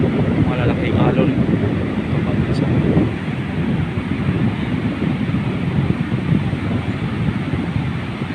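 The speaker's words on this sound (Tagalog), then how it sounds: "Malalaki ang alon." Large sea waves breaking along a wide island shoreline during the December northeast monsoon, a steady loud roar of surf mixed with wind buffeting the microphone, with brief voices near the start.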